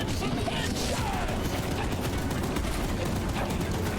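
Mounted gun firing continuously in the train game Choo Choo Charles, a dense, steady rattle of rapid shots with heavy low-end rumble, loud and unbroken throughout.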